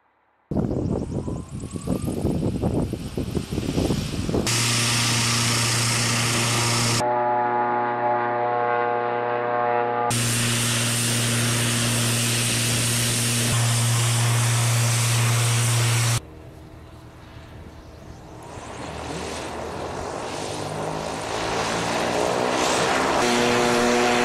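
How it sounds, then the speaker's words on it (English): A ZeroAvia aircraft with a 600kW hydrogen-electric powertrain on a runway rolling test gives off a loud sustained engine and propeller drone with steady tonal whine bands that changes in pitch and level as it rolls past, with no speech. "A rolling test and demonstration over by runway 24."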